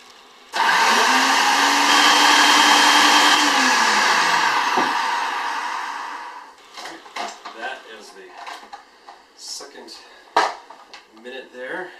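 A blender runs loud and steady for about six seconds, whirring through mayonnaise with lemon juice and oil, its pitch sagging slightly before it cuts off; afterwards scattered clinks and handling noises follow with a voice talking.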